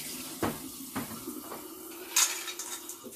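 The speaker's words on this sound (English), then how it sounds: "I'm going to just go ahead and rinse these real quick with some cold water" Tomatoes rinsed in a kitchen sink with cold water and ice, giving a soft running-water wash broken by several sharp clinks and knocks of ice and produce against the basin.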